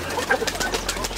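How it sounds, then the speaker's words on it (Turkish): Hungry pigeons being fed coo softly again and again at close range, making a steady chorus of low, throaty calls. "Güvercinlerimiz aç."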